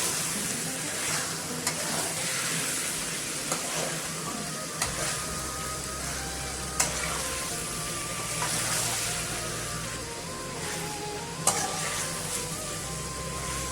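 Minced meat with potatoes and peas is stirred in a frying pan over steady sizzling, with occasional sharp scrapes and clicks of the spoon against the pan.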